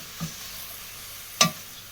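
Leeks in butter in a pan, a soft sizzle underneath with two short stirring scrapes, a faint one early and a sharper, louder one near the end.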